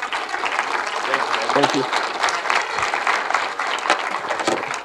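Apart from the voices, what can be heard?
audience applause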